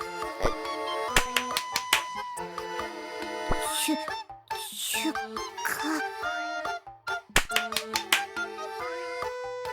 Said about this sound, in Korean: 아, 대충 분위기에 맞춰서 박수를 쳐야겠군.